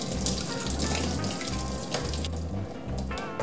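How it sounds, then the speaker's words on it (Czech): Boiling water poured over washed spinach held in a kitchen sieve, a close, steady splashing rush with low gurgling thumps, no voices. "si ho přendáme do sítka a zalejeme vařící vodou."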